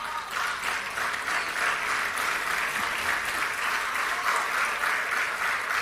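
A studio or live audience claps steadily through a talk program on financial markets and politics, dense and even applause holding at a constant level from start to finish without fading.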